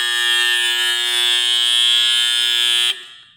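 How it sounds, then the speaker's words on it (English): The game-over buzzer of a Hokus Pokus electromechanical pinball machine in an arcade blares as one loud, steady harsh tone for about three seconds, then cuts off and decays briefly, with no talk. "Actually, what's going to let the world know is this buzzer here."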